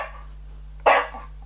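A single sharp dog bark from a stock sound effect library, one short close burst over a steady low hum, otherwise quiet.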